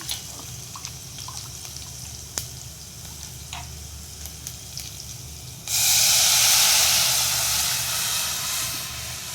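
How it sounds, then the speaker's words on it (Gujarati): Kadhi poured into a hot spice tempering of cinnamon, cloves and star anise. Quiet pan crackles come first, then a sudden loud, sustained hiss and sizzle that slowly eases off. "હવે આ મસાલા થઈ જાય એટલે આપણે આ કઢી રેડી દેવાની."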